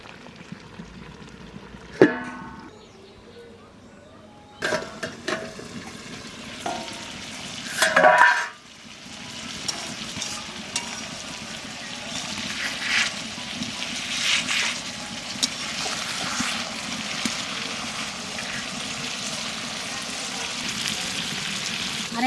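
Egg curry cooks covered over low heat in a home kitchen, a steady soft sizzle and bubbling under the lid, broken early by a few clatters and a short louder rattle as the lid goes on.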